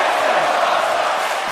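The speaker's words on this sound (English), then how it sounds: "And this crowd love it." A wrestling crowd roars during a live show, a dense sustained wash of cheering and shouting that fills the space evenly and loudly for the whole moment.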